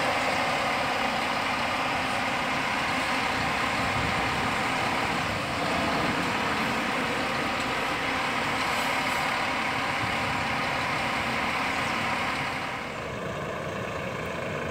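An intercity Rápido Federal bus idles at Brasília's interstate bus station with a constant rumbling engine drone that holds steady throughout and is heard alone, with no talk.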